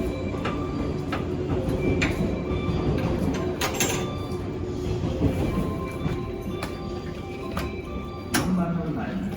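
The Sunrise Izumo sleeper train waits at a station platform with a constant rumbling background. Sharp clanks and door-like knocks recur, and a voice speaks over the platform noise.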